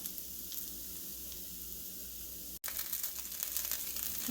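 A dosa sizzles as it cooks on a hot pan, a steady close frying hiss with a brief break midway, then a slightly brighter crackle.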